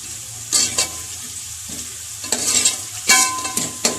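A spoon stirs spices, salt and chili through turnip and spinach in a pan, several distinct scraping strokes over a low background sizzle, close and without voices.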